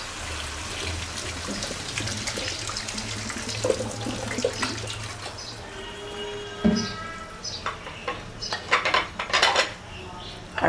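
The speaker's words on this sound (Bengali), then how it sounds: "এখন আবার আরেকটু পানি ছেড়ে দেব।" Water runs and splashes into a cooking pot for a kohlrabi and singi fish curry, followed by metallic clanks of a pot and utensils growing louder toward the end.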